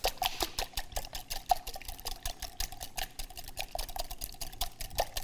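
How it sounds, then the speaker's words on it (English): Water boiling in a pot for Italian chicken soup, a busy, irregular bubbling and crackle with small ticks and clinks, close and moderately quiet throughout. "As the water is boiling"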